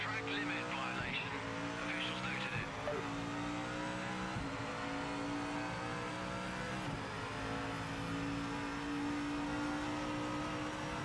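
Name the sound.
race car tyres squealing, losing grip, in video game Project Motor Racing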